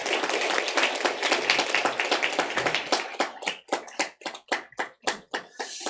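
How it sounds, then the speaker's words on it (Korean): Church congregation applauding to welcome a family at a Sunday service: dense clapping at first that thins into a handful of distinct, separate claps toward the end, with no talk over it. "우리 박수로 환영하겠습니다"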